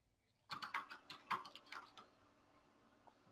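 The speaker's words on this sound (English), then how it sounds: "Can you hear me punching on the keyboard?" Soft clicks of a computer keyboard being typed on, a quick irregular run of keystrokes for about a second and a half, then fading to quiet room tone.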